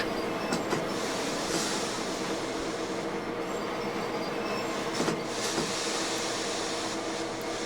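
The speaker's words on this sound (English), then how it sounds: "apply a little bit of the independent brake there to slow our" SD40-2 locomotive in Train Sim World 3 slows its approach under the independent brake, a steady rolling rail rumble with faint wheel squeals and occasional clicks, continuous and close.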